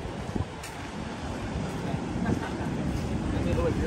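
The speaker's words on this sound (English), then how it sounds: "It's quite breezy here right now, but there you go." Breezy wind at Laguna Beach blows over the microphone as a constant low rumbling buffet, with faint background noise from the shore and no talk.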